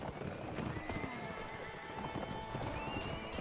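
Horse hooves clip-clop and a horse neighs in the Mount & Blade Warband video game, with continuous busy battle noise running through the whole stretch.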